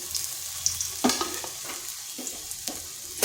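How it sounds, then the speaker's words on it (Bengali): Soybean chunks fry in hot oil in a kadai, giving a soft, steady sizzle broken by scraping stirs and clinks of the spatula, fairly quiet and close. "সয়াবিনগুলো আগে ভেজে নেব।"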